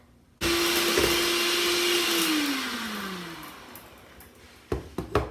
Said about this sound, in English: we're just going to pour that in here and start whipping